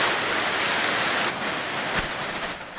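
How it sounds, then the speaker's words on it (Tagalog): Heavy rain pours down at a school in a steady, dense hiss, close and loud throughout with a brief thud near the end. "Habang naroon kami, bumuhos ang malakas na ulan."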